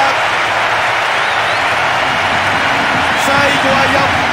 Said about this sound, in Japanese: 場内が大歓声に包まれます